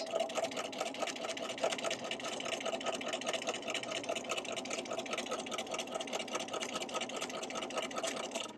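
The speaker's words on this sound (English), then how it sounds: "I'm going to sew almost to the edge of my fabric." A sewing machine stitches a straight seam in fabric, a fast steady mechanical rattle running continuously at close range with no pauses.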